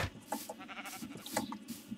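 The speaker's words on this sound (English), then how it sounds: "I'm gonna kill another sheep." A sheep in Minecraft bleats several times in quick, close succession, short wavering calls that fill the brief moment with no talk.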